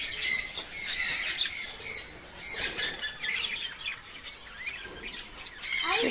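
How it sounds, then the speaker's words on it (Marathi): Small birds such as sparrows and parrots squawk and chirp around a seed feeder, with busy overlapping calls, bursts of wing flaps and a loud cluster of squawks near the end. "हे छोटे छोटे पक्षी आहेत वेगवेगळे"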